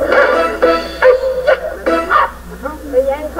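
A small dog barks in a quick series of sharp, high yips, close and fairly loud, coming in short bursts with brief gaps between them.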